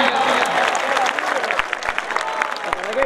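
Crowd applause at an outdoor sporting tournament final, a loud burst of clapping that fades into scattered claps while a commentator talks over it.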